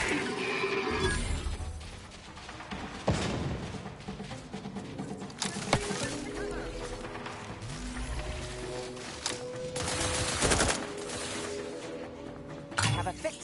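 Gunfire from weapons in the video game Outer Worlds 2, sharp bursts and cracks scattered through a busy combat mix, with a voice talking over the action.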